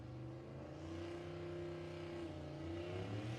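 Drag racing vehicles at Tulsa Raceway Park, including a Chevy LUV and a BMW bike, run quarter-mile passes, their engines droning in a loud sustained roar with shifting pitch, heard from a distance with no speech.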